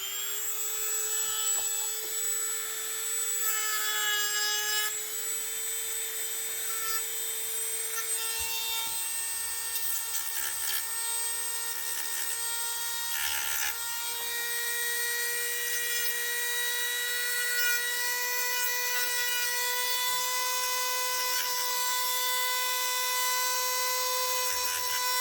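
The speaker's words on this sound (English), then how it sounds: "we're gonna use the Dremel to clean this whole area up" Dremel rotary tool whining steadily as it grinds and cleans up the broken tab area of a car bumper, a high sustained buzz with slight pitch dips as it bites into the plastic, close and alone.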